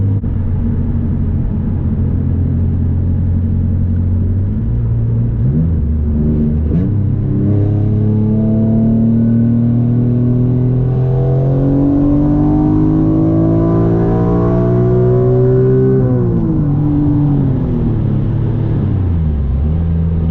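A Nissan Maxima with a VQ35DE engine and a rev limiter raised above 8000 rpm pulls hard on the highway. The loud engine note climbs steadily in pitch, drops at a gear change, then climbs again before easing off.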